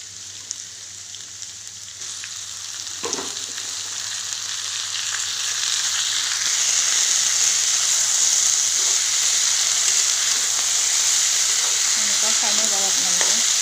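Chopped banana flower and potatoes sizzling in a pan in a home kitchen in Assam, a steady broadband frying hiss that grows louder and denser partway through, with an occasional stir or clink.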